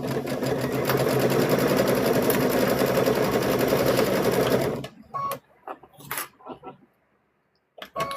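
Sewing machine stitching the legs of a stuffed bear whirs continuously and close for nearly five seconds, then falls quiet apart from brief clicks and fabric handling.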